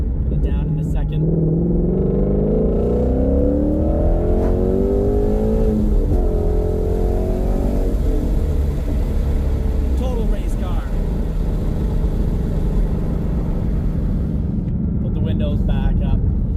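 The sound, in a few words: Ford Mustang Shelby GT350 engine accelerating hard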